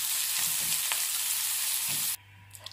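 Splash of water added to onions caramelized with brown sugar in a pan, a loud hissing sizzle that cuts off abruptly, leaving a faint low hum and a couple of small clicks.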